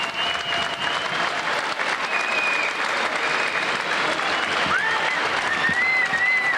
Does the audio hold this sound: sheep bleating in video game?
no